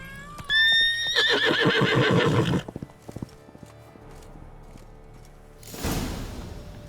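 Roach, Geralt's horse in The Witcher 3: Blood and Wine, gives a loud, close, quavering whinny, then snorts and shuffles before a soft swish near the end.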